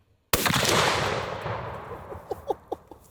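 A single .50 BMG rifle shot fired outdoors, with a sharp, very loud blast followed by a long decaying rumble and a few faint clinks afterward.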